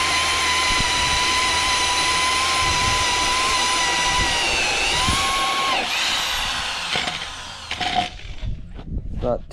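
A loud, steady power drill whines continuously boring into an autoclaved aerated concrete block, its pitch holding then dropping as it winds down and cuts out, leaving scattered clatter.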